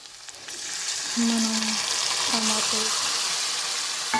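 Ginger garlic paste sizzles and fries steadily in a pan for a Godavari-style fish roe curry, with a brief spoken word over the continuous crackle.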